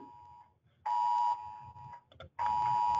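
A Cisco VoIP notification system sounds its all-clear alert, a steady electronic tone played in two long bursts with a short gap and brief blips between them, clear and moderately loud.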